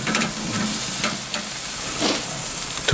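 Burgers sizzle on the grate of a Pit Boss K24 ceramic charcoal grill, a steady close crackling hiss with a few brief bursts of fat spitting, running unbroken and with no voices.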